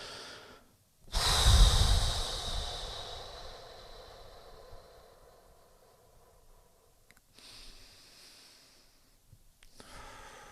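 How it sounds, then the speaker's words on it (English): Slow deep breathing, drawn in through the nose and let out through the mouth, heard close and alone: one long strong exhale that fades gradually, followed by softer breaths later. "start breathing slowly, but say deeply into your belly, through your nose, and breathing out through your mouth"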